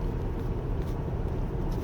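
Steady, even engine and road rumble from inside a 2023 BMW 620d GT diesel under acceleration, a continuous low drone with no distinct surges, heard alone without talking.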